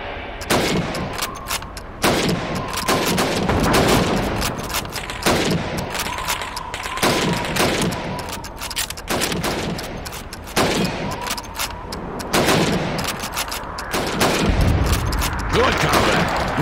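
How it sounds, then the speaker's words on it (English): Rifle shots ring out during Soviet Red Army training in Call of Duty 2 as helmets are shot against the clock. The shots are loud, sharp and fired in quick succession with short gaps, and their echoes carry over each other. "Now, let's see how well you can do under pressure. You have 15 seconds to shoot the helmets."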